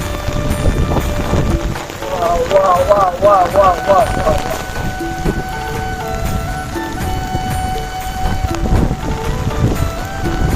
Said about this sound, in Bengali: যে পরিমাণ বৃষ্টি